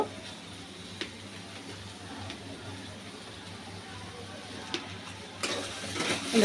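Mustard and green chili paste frying in a pan gives a soft, steady sizzle with a few sharp taps of a utensil, and the sizzle swells louder toward the end.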